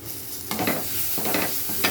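Turmeric being stirred into a sizzling frying pan: a constant hiss of hot oil with a few scraping stir strokes, close and clear, no voices.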